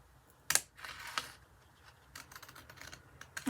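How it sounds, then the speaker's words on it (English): Scissors carefully cut paper for a pop-up book, making quiet, close snips and crisp rustles in short irregular bursts against a near-silent background. "And I'm going to carefully cut round."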